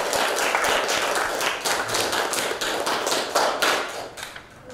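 Classroom students clap for a group, a dense, continuous patter of many hands that stays fairly loud and close throughout before easing slightly at the end.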